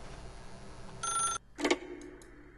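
An old telephone rings in The Stanley Parable video game, with two short, bright electronic bursts separated by a brief gap, loud and close over a faint, quiet background hum, with no voices.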